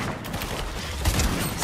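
Video game gunfire during a duo match, heard as a rapid burst of shots about two thirds of the way through over a busy, noisy game background.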